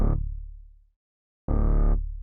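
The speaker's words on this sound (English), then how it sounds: "Next we're going to add a sub with the same notes." A synth sub bass for a midtempo electronic track plays two deep, heavy, distorted notes. A short silence separates them, and each note fades away at its end.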